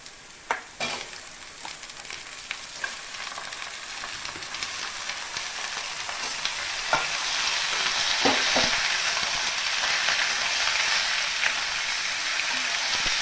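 Mutton sizzling in a pan with onions already fried until browned, a steady, bright frying hiss that grows slightly louder, with a few soft clicks of stirring early on and no voices.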